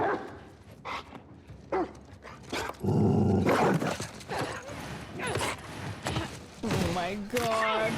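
Dogs barking in the Grounded video game, sharp repeated barks overlapping loud, busy game noise and excited voices talking throughout.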